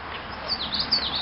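Baby birds in a garden give a quick run of thin, high chirps, close and fairly clear over a soft steady hiss.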